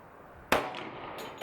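A Hi Point JXP 10 pistol in 10mm firing a Remington UMC round at a range: one sharp, loud shot near the mic, then a short decaying ring and a faint later click.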